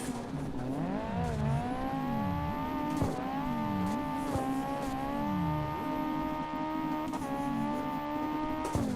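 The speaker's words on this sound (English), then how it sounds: "His car sounds like it's behind me." Race cars in the video game CarX Drift Racing Online drone steadily at high revs, with engine pitch dipping and rising through repeated shifts and occasional tire squeal. The sound is continuous and loud throughout.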